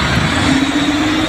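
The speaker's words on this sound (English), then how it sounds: "mga heavy truck yung dumadaan dito, no?" Heavy trucks bound for the pier rolling past on a road by an off-ramp plaza along Quirino Avenue Extension, a loud, close, continuous engine drone with a low hum.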